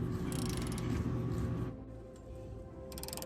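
A ratchet clicks steadily while loosening the frame bolts holding a lower control arm mount on a 2002–2009 Trailblazer/Envoy, fairly close, then pauses briefly before a short burst of clicking resumes.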